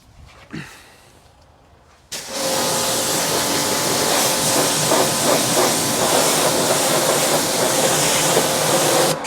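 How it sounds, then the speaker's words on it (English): A pressure washer sprays down the engine bay of a 2007 Subaru WRX; after a brief quiet moment its loud, steady hissing jet starts abruptly and runs without a break to the end, with no talking. "I'll just come around now with the pressure washer and give this a decent rinse down."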